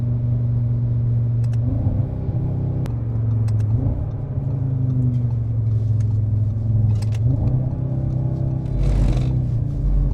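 An Audi engine rumbles loudly from inside the car, with several short surges as it revs under acceleration over a steady low drone.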